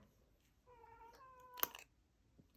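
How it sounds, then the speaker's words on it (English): A house cat meows once in a clear, drawn-out tonal call, close and moderately loud, ending in a sharp click and a brief rustle in an otherwise quiet room. "Oh, there's a cat again."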